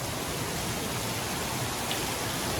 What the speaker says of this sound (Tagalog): ulan pa rin